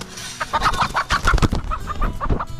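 Several hens cluck and murmur continuously, close by, with overlapping calls and soft rustling throughout.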